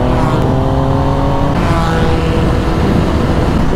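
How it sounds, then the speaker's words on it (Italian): A three-cylinder motorcycle exhaust revs loud and close, a thick continuous engine roar whose pitch shifts up and down without any voices over it. "E ora sinfonia per scarico in tre cilindri."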